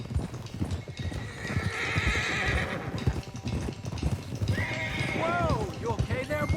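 Horses gallop and neigh in Red Dead Redemption 2, with a steady rapid clip-clop of hooves over a continuous outdoor background. Several loud whinnies with falling pitch follow near the end.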